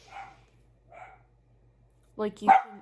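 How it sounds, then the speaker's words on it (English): Pet dogs bark faintly a couple of times somewhere in a house, then a nearby voice speaks over louder sounds toward the end. "you're gonna be able to hear my dogs barking"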